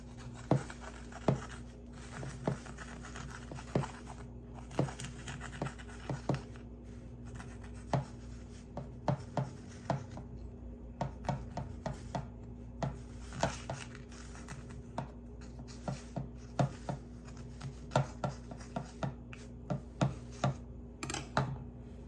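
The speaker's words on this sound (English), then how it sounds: "I'm just going to cut around the edges." A knife cuts around the edges of a pie crust for an Amish vanilla pie, making a long series of light, irregular taps and scrapes against the dish, close and steady throughout.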